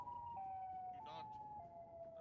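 In an SCP horror video game, Siren Head gives off a wailing siren with stepped, sustained pitches, moderately loud against a dim background.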